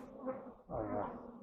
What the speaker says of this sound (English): there's a bunch of bees on this wall with pollen on them